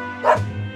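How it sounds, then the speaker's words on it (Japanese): A small dog gives a single short bark with a whimpery edge, close and loud, in a quiet park. "この子ったら吠えることなんてないのに"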